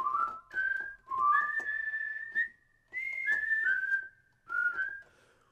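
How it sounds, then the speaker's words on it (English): A whistle ensemble patch from the ProjectSAM Swing! sample library plays a short melodic phrase of several clear, sustained whistled notes with brief gaps between them, bright and close. "Whistle ensemble."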